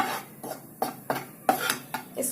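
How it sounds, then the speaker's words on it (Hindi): A pan being stirred while sautéing for mushroom white sauce pasta, with a series of distinct spatula scrapes and knocks against the metal over a faint sizzle, close and rhythmic, no voices. "इसको आप अच्छे से भूनिए"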